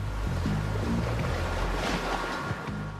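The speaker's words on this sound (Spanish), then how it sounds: "Los fuertes vientos, el azote de la lluvia y el mar embravecido" Rough stormy sea churns under strong winds, a loud continuous roar of wind and heavy water around an offshore construction vessel, with deep low rumbling throughout.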